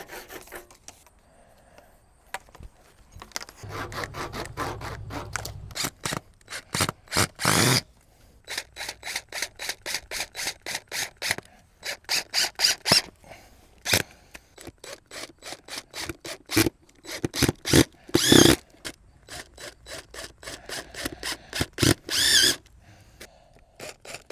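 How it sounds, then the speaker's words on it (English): PVC pipe is cut by hand outdoors for a garden low tunnel, giving rapid runs of rasping saw strokes in short rhythmic bursts with brief pauses between, fairly close and with no talking. "I'm going to cut this PVC pipe up."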